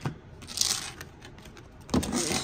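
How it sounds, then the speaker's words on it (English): A deck of tarot cards is shuffled by hand, making two short bursts of papery riffling and rustling close to the microphone. "Shuffle these bad boys."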